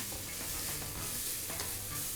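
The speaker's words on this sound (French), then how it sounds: "ونبدا نحركوهم هكا حتى يهبطوا لنا ديك البصيله ولي بوارو ديالنا" Leeks and onions stirred in a pan for mushroom risotto, a close soft sizzle with repeated scraping strokes of the spoon and no speech.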